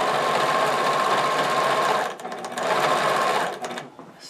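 Fast, continuous whir of a sewing machine stitching around the heel band of a stocking, loud and close, briefly slowing once before running on and then stopping.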